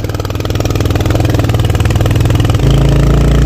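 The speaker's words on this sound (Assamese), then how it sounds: "বাইকৰ মাত শুনিছে কিমান মাত ওলাইছে" A motorcycle engine labours up a dry hill road in loud, close, steady throbbing, then drops into a lower gear and pulses harder partway through, with no talk.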